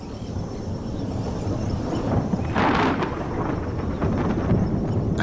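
Thunder from the season's first thunderstorm in the Pantanal, a broad steady rumble with a brighter crack or roll near the middle, heard alone with no voices.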